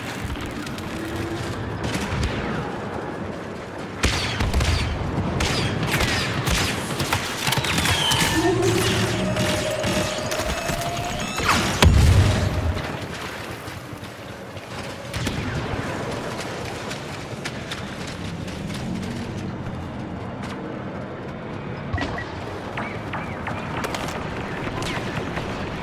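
Ion weapons firing amid explosions in a video game battle, a dense run of sharp bursts and deep booms over a steady rumble, with one heavy blast near the middle and spoken radio chatter faintly under the action.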